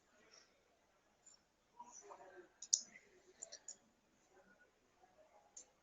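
Computer mouse clicks while operating hospital clinic software, faint scattered taps in a quiet room with a soft voice murmuring in the background.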